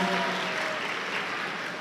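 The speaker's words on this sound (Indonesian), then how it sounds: "berikan tepuk tangan yang meriah sekali lagi untuk kita semuanya" Crowd applause at a university send-off ceremony for UNNES GIAT 13 students in Semarang, a dense continuous clatter of many hands clapping close by and steady throughout the short burst.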